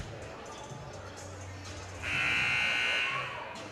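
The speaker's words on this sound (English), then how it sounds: "So a buzzer goes off." A steady electronic buzzer blares for about a second amid the murmur of an indoor crowd at a men's college basketball game.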